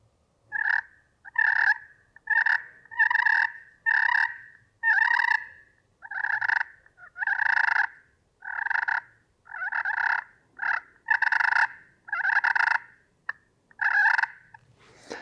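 Turkey purrs from a pot call and striker, about a dozen short rolling trills in a steady series with brief gaps, close and clear with nothing else.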